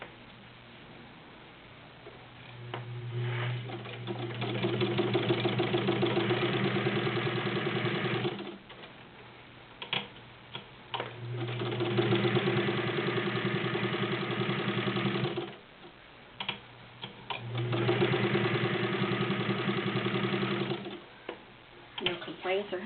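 Vintage Necchi BU heavy-duty sewing machine sewing through six layers of denim with a size 16 needle, running in three steady motor-driven bursts with short pauses between them, heard close and loud.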